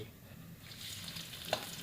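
Steady hiss and crackle of garlic sizzling in hot oil in a pan, soft and continuous, with one brief clink near the end.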